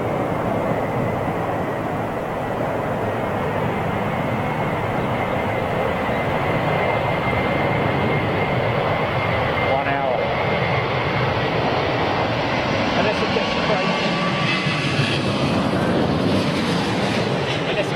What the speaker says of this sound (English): Okay, another Dreamliner.